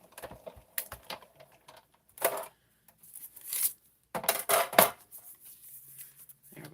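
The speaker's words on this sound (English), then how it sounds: "we're going to run this through our machine and cut out that circle." A craft cutting machine cuts a circle out of paper for a miniature twist box, giving off light clicks and short whirring bursts with quiet gaps between them, close and fairly soft.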